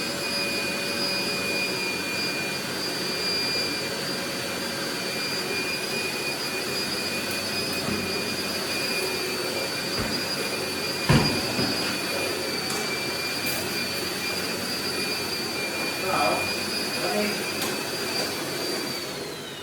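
A vacuum cleaner runs indoors with a steady, whining drone and high tonal hum that persists unbroken, with a few brief knocks and bumps near the middle and later on.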